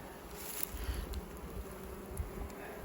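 Loud, continuous buzz of a crowded bee colony close by, with a few brief bumps and knocks.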